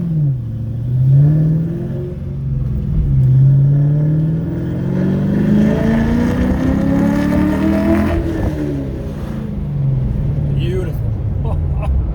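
A 2014 Chevrolet Camaro SS 1LE V8 revs hard in a second-gear pull, engine note climbing steadily and loud for several seconds before easing, with a second rising harmonic sweep near the end.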